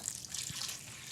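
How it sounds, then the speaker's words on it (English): Water poured over psyllium husk in a bowl for gluten-free buns, a soft steady trickling splash heard close up and alone. "And then you want to pour your water over top."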